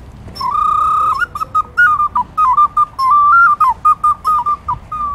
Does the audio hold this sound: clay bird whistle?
yes